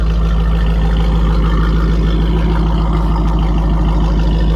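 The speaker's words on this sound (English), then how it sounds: "You just hear the exhaust." A steady, low exhaust rumble from a 2012 Jeep Grand Cherokee SRT-8 at idle, constant and unchanging, close by with no voices.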